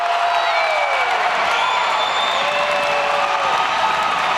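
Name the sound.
basketball crowd cheering after a block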